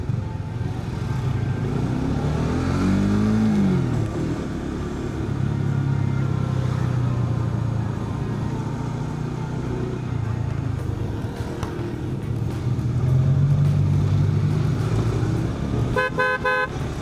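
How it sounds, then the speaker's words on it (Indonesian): Congested road traffic of cars and motorcycles heading to a beach in Bali, engines droning and revving nearby, with several short horn toots and a brief honk near the end. "Ini kemacetan kendaraan ini semuanya akan menuju ke pantai kelihatannya."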